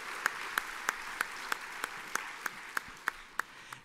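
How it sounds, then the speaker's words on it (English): Applause from a conference audience, heard as a regular series of sharp claps about every third of a second, moderately loud and fairly even, with no talk over it. "So how about a round of applause for everybody who's made a difference?"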